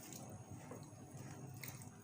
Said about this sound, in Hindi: ये पानी इसमें ऐड करेंगे।